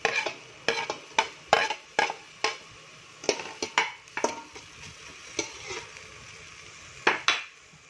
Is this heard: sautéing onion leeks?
yes